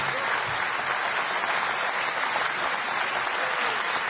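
An audience at the Sinn Féin Ard Fheis party conference gives sustained, dense applause, steady and full throughout without a break.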